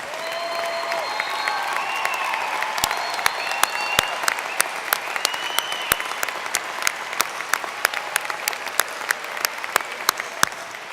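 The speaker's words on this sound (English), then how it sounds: "thank you with a round of applause for your service" An audience at the 2019 Ivy Tech Fort Wayne and Warsaw commencement applauds military personnel and veterans, with sustained crowd clapping, a few faint whistles and whoops, and sharp nearby claps punctuating it.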